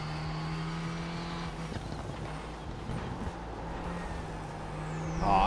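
A Renault Clio race car engine in a racing video game drones steadily at a constant pitch, with slight shifts in tone and a rising surge near the end, close and continuous.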